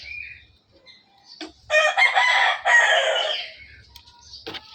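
A person mimics a chicken in a few bursts, with short clucks, then a drawn-out crowing call, then more scattered clucking, close and clear against a quiet room.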